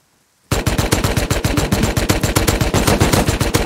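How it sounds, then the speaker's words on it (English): Rapid MP5 submachine gun fire in the survival game Rust, a loud close burst of evenly spaced shots beginning abruptly after a brief silence and rattling on without pause to the end. "This MP5 teammate shooting at me"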